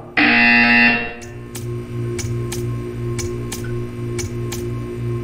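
A loud, harsh buzzer blares in a video game for about a second, then cuts off. A low hum and sharp, evenly spaced ticks follow.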